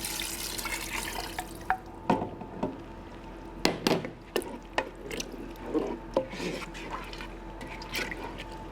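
Vegetable broth and diced tomatoes poured into a pot for an African peanut stew, giving soft watery splashes and drips with a few sharper sloshing bursts and clinks, fairly close and without speech.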